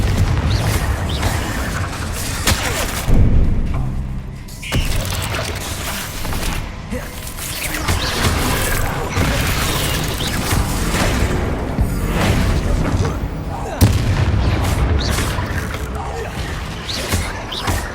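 Spell-casting combat in Hogwarts Legacy with the Confringo blast spell: loud booms and crashes, whooshes and clattering mechanical effects in a dense continuous mix, with a voice calling out spell names over it.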